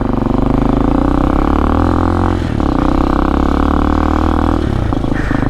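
An X-Pro Hawk DLX 250 motorcycle with a 230cc engine pulls away loudly and up close, its engine droning steadily with audible revving, a brief dip at a gear change, then climbing again.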